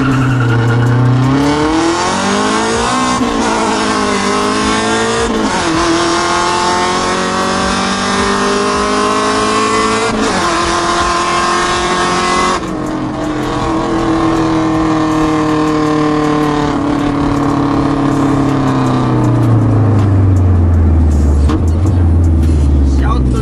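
A 1994 Honda Civic EG with street tuning drives along, its engine droning loud and close as the pitch climbs and drops through several gear changes over a long, continuous run.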